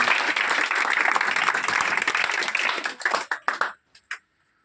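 Audience applause welcoming a speaker at a community event in Bihar, loud steady clapping that thins into a few last separate claps and then falls silent near the end.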